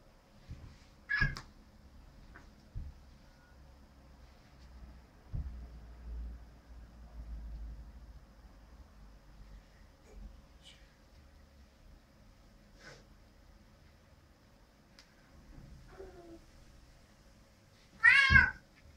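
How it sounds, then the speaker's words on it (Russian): Cats in a fight: sporadic meows and yowls break a mostly quiet, low background, with a loud drawn-out caterwaul near the end. "Кошачьи разборки."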